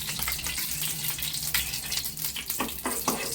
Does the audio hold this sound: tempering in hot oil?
yes